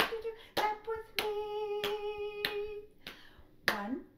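Hands clap in a steady rhythm in a preschool sing-along, about seven sharp, close claps spaced roughly half a second apart over light background music.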